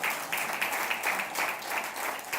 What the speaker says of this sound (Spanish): Dale un buen aplauso al Señor en esta hora